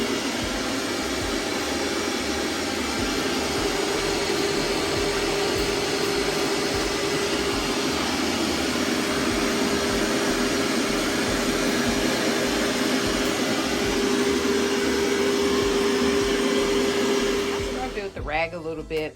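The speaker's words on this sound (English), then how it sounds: "let's just run over with the carpet cleaner" A carpet cleaner machine runs over carpet with a loud, steady motor whine and airy suction roar that holds unchanged for most of the stretch, then cuts off near the end.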